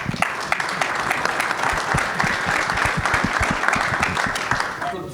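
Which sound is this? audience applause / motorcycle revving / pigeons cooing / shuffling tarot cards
audience applause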